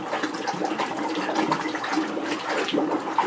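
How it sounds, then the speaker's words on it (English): A spatula stirs a container of ceramic glaze, making a steady wet sloshing and churning that runs continuously at moderate loudness, with no talking. "we get one of these spatulas and stir it up"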